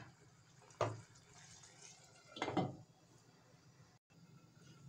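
Water splashes into a pan of cooking fish in two short pours, the second longer, over faint background hiss, with no talking.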